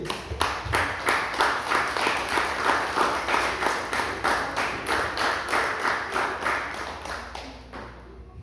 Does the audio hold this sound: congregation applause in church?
yes